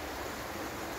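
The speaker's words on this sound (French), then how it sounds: "petite cascade, on est en direct live, ça coule à flot, le petit son" A small waterfall cascades steadily, flowing water making a constant broadband rush, moderately quiet and with no voices.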